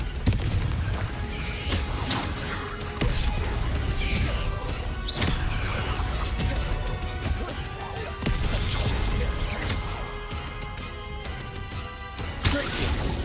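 Repeated explosive spell blasts from the Confringo fire spell in Hogwarts Legacy, a steady run of booming crashes and crackling impacts that continues across the whole stretch amid busy game effects.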